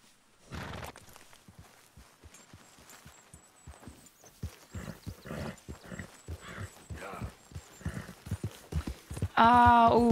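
Rhythmic horse hoof clip-clops trot along in a steady beat in the video game Red Dead Redemption 2, with speech weaving in and out and a tonal chime at the end.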